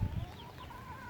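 Chickens on a rooftop in the rain, a few soft clucks and calls heard faintly at a distance over a low background.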